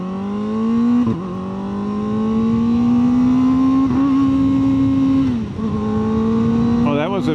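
A Kawasaki ZX4RR sport bike engine revs loud and steady close by, its pitch slowly climbing with brief stutters and dips as the quick shifter misbehaves, plus a sharp rising whine near the end.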